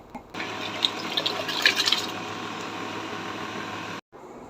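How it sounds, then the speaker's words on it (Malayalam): Rice being rinsed in water in a home kitchen, a steady close wash of running, sloshing water with small splashes and drips, stopping abruptly near the end. "അപ്പോൾ അരി ഇനിയും കഴുകിയിടട്ടെ"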